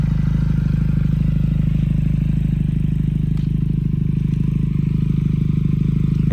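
A Benelli TNT Tornado 300i motorcycle idles a little distance away, its steady low rumble and even pulse continuing unbroken, with a faint scrape or click partway through.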